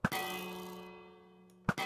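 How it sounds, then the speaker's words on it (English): A bell in the Minecraft video game, struck by a flaming projectile, gives a sharp metallic clang that rings out and decays, then a second strike clangs near the end. "Now, any projectile will now ding the bell."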